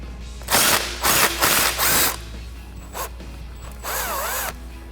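A power tool spins out a 13 mm bolt holding a brake line bracket on a Jeep Wrangler JL, several loud close bursts of whirring with short pauses, then a longer whining run near the end.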